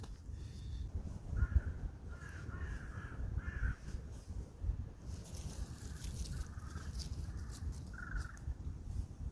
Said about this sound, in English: Crows scary, are they?